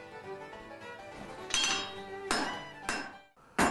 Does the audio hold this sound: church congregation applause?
no